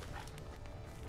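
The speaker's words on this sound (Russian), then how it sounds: "Похоже, Якоб бежал, а за ним гнался... Пес? Его пес" A dog in The Witcher 3: Blood and Wine gives a short, muffled bark in the game, moderately loud against a faint background.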